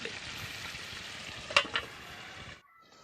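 Steady sizzling and bubbling of bopis stew, colored with turmeric powder, boiling in a pan, with a couple of brief clinks of a utensil, then the sound drops away near the end.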